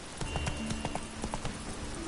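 Roach the horse in The Witcher: Wild Hunt clip-clops along in a quick, regular rhythm of close hoofbeats, several distinct strikes over a quiet game backdrop.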